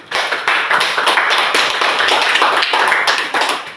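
A school class gives a student group a round of applause, with dense close-up clapping from many hands carrying on steadily for several seconds.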